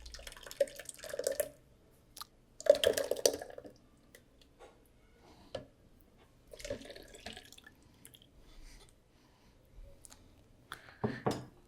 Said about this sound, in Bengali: এখন এটা ঢেলে নিচ্ছি আমি একটা জায়গায়।